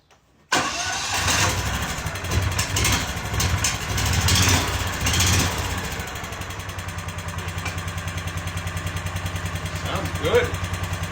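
A John Deere Gator TX utility vehicle's engine cranks and catches, then settles into a steady, fairly loud idle with a regular pulsing rumble; a voice is briefly heard near the start.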